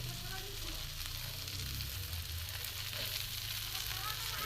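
Spinach tikki patties fry in a shallow layer of light oil, giving a steady, close hiss and crackle that runs without a break and stays even in loudness, with a low hum underneath.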